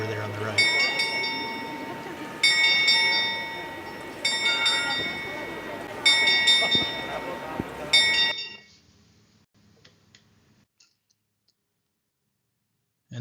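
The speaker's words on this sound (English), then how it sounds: "You'll see this skeleton in a minute that's ringing the bell." Clock mechanism in Prague with a skeleton figure ringing a bell, a series of bright, clanging chimes in four bursts about two seconds apart over crowd murmur, then sudden near silence.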